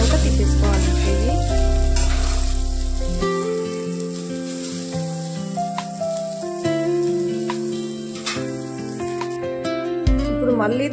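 Meal maker soya chunks frying in hot oil and being stirred until light golden, a steady close sizzle running throughout beneath prominent background music.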